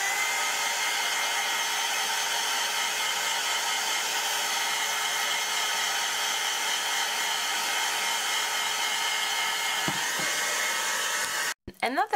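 A hair dryer runs steadily to dry paint on a mixed media box, a constant airy whir held for over ten seconds that cuts off abruptly near the end.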